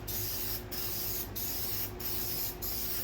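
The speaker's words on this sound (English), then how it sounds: "we're just going to spray back and forth and slowly work our way up" A spray paint can hisses out white paint in a loud, steady stream, broken by brief pauses at a regular rhythm as it sweeps back and forth.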